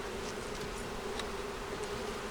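A steady, dense buzz of many bees inside a working beehive during smoker use, faint and continuous without a break, with no voices.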